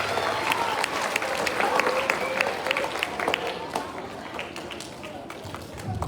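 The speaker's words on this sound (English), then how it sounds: "give our fifth grade a big round of applause" An audience of families at an elementary school Veterans Day program gives the fifth grade class a long round of applause. The clapping is steady and textured, with scattered cheers and crowd noise mixed in, and it eases slightly toward the end.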